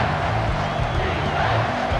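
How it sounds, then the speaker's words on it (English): Stadium crowd in EA Sports College Football 25 on a big third down near the two-minute warning, a dense continuous roar of cheering fans that holds steady and loud, with faint commentary voice underneath. "The crowd elevating its energy, willing this defense to get a stop on this big third down"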